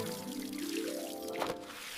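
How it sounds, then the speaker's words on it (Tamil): Water poured onto garden plants gives a short, close pouring gurgle whose pitch rises as it flows, ending in a few splashy drips. "தினமும் காலையிலும் மாலையிலும் செடிகளுக்கு அன்புடன் தண்ணீர் ஊற்றுங்கள்."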